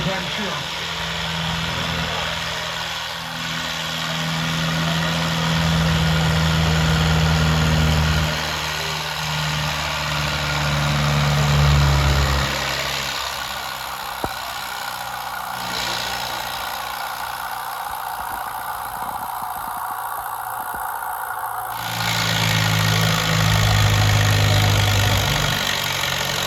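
A 1950s-era Massey Harris farm tractor idles at a county fair tractor pull, its steady low engine rumble running throughout with an announcer talking over it.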